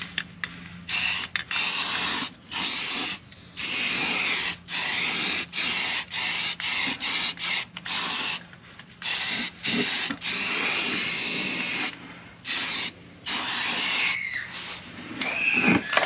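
Short bursts of aerosol primer sprayed onto rusty inner rocker panels of a 2003 Saturn VUE AWD, a close hissing spray in repeated separate pulses with brief silent gaps.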